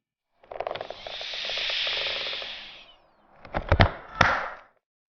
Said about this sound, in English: That's the sound of air being expelled through the pressure release valve